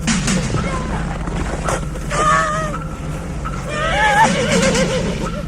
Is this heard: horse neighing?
yes